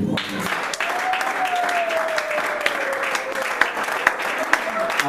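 A church congregation claps together in steady, dense applause throughout, with a sustained voice rising and holding over the crowd.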